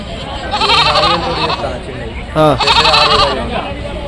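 Goats bleat at a Tuesday sheep and goat market in Rajarampalli, a couple of wavering calls rising clearly amid close, loud talking and crowd noise.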